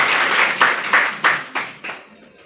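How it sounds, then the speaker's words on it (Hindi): Audience applause at a DXN business meeting, a burst of clapping that thins into several spaced loud claps and fades out over a couple of seconds. "उनके लिए एक जोरदार ताली।"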